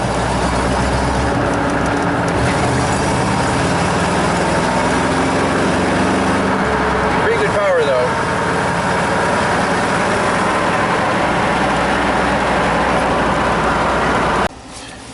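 A Chevy 5.0 truck engine with low power and a P1345 fault, converted from automatic to manual, roars loudly and continuously as it revs hard for a burnout attempt, then drops off sharply near the end.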